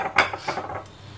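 A spoon stirs chicken filling in a bowl, giving a quick run of scraping taps and soft clinks against the bowl, close and brief, with no voices.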